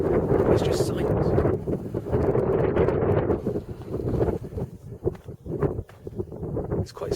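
Wind in the Sahara desert gusts and buffets against the microphone in uneven, rumbling surges, loud at first and then easing into choppier bursts, with someone talking throughout.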